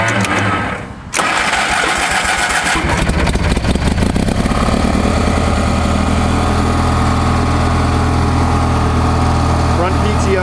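A Simplicity Sunstar 20 garden tractor with a loader cranks with a rapid starter churn, catches, and settles into a loud, steady idle close by.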